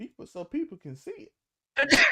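Someone speaks briefly, then a single loud sneeze bursts out close by after a short pause.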